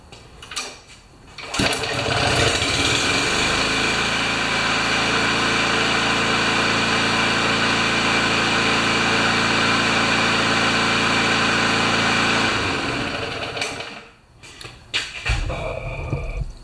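Kohler engine on a Craftsman riding mower cranks and catches on choke, then runs at a loud, steady roar for about ten seconds before cutting out, followed by brief clanks.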